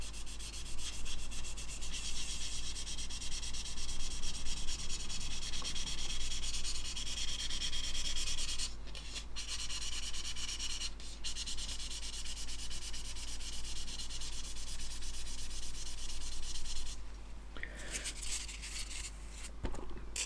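A 2500 grit sanding sponge rubs down a plastic scale model in close, steady strokes, a continuous scratchy abrasion with a few brief pauses and no talking.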